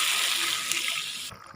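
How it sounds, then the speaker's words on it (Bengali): A little water is poured into a pan of fried meat and potatoes, a brief close rushing splash over sizzling that cuts off after about a second. "এই যে পানি দিয়ে দিলাম।"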